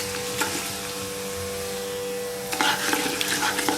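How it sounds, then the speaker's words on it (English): Cardamom pods frying in ghee in a big curry pot, a constant dense sizzle close by, then a few sharper bursts of stirring and crackle near the end, with nobody speaking. "cardamom pods. And what we want to do is just let them go for 60 to 90 seconds. They'll infuse that ghee"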